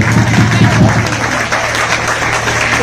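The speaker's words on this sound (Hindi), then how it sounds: "आपके लिए भी जोरदार तालियां" A seminar audience in Rohtak bursts into loud, dense applause that carries on steadily throughout, with a voice faintly audible under the clapping.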